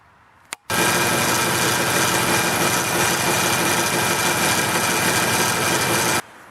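A truck's power steering pump whines steadily and loudly under a broadband engine roar, starting abruptly after a short click and running unbroken for about five and a half seconds before cutting off.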